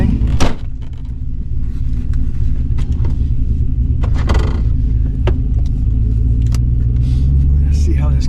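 A junkyard LS-swapped 2005 Silverado with a Truck Norris cam idles roughly before tuning, a deep lumpy rumble close by, steady throughout with a few clunks and someone talking over it.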